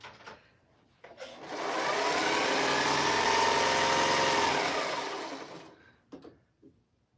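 A sewing machine runs steadily for about five seconds, a smooth, fairly loud motor whir that ramps up, holds an even hum, then winds down, with short quieter sounds before and after.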